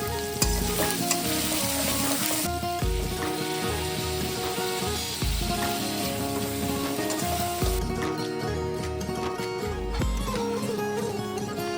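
Prawns stirred and frying in a pan with chilli-ginger paste and khichuri spice mix, a dense continuous sizzle layered with frequent close scraping stir strokes.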